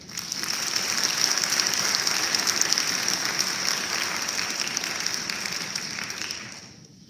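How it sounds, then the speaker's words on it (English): Audience applause fills a school academic recognition and scholarship ceremony, a steady wash of clapping from a seated crowd that holds for several seconds and then fades out. "Let's give a round of applause."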